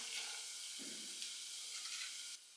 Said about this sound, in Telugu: గ్యాస్ సిమ్లో పెట్టేసుకొని ఇవి 1 నిమిషం వేగనిద్దాము